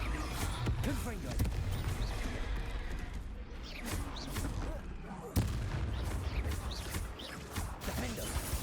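Confringo blasting spell cast in the Hogwarts Legacy video game during a troll fight, heavy repeated booming blasts and crashes over dense continuous combat noise, loud and close throughout.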